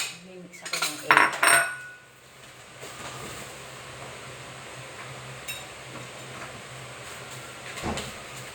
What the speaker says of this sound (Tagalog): Mimix ako ng egg.